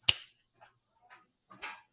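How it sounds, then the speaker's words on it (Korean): Finger snaps close to the microphone: one sharp, crisp snap at the start, then a few softer snaps spaced irregularly over about two seconds in a quiet room. "핑거 스냅."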